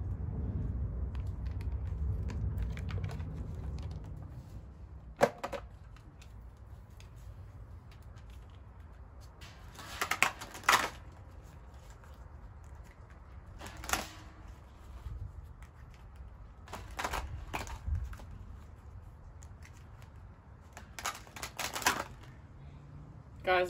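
Tarot cards shuffled by hand during a reading, heard as a series of short, crisp riffling bursts at irregular intervals over a low room rumble, fairly close and moderately quiet.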